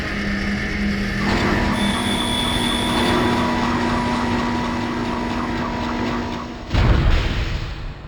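A rumbling tram in the video game Dead Space rolls in with a steady mechanical drone and hum, ending in a heavier clunk as it comes to a stop.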